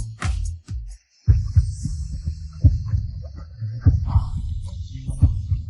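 A fast-beating heart sound effect thumps deep and heavy in a steady repeating pulse, with lighter taps and a few brief higher tones over it.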